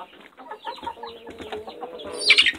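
Several chickens, hens and roosters, cluck and murmur close together in a hen house in a steady chatter, with one sharper, louder squawk near the end.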